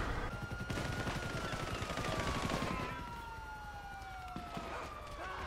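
Police gunfire in GTA 5 Online: rapid bursts of shots crackle over a siren wail, with a dense volley at first that thins into scattered shots, mixed with game noise.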